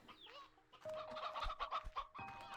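Chickens in the video game Slime Rancher 2 cluck in a quick, busy run of short bursts, loud and close, with a few brighter squawks mixed in.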